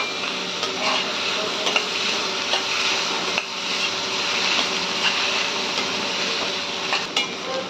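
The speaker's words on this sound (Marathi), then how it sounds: "थोडा हळूहळू भाजत चाललाय आता कांदा" Onions sizzle steadily in a pan, with a spoon or spatula stirring and scraping at intervals, making a continuous close frying hiss throughout and no voices.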